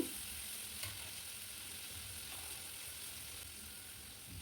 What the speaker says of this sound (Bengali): এখন দিয়ে দিচ্ছি পেঁয়াজ আর ক্যাপসিকাম দিয়ে নেড়ে চেড়ে দিচ্ছি